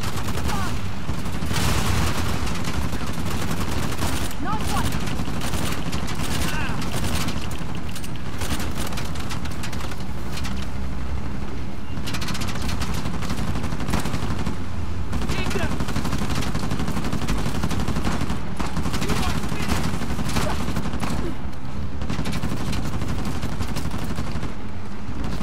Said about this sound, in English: They've got a mounted gun!